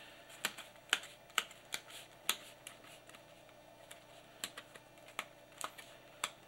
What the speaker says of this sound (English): Now all I have to do is just push them through with a pencil like this.